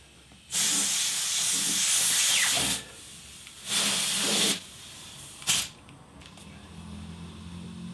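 Compressed air hisses into the front tyres of a David Brown 990 tractor in three bursts, two long steady blasts then a short puff, loud and close with no talk.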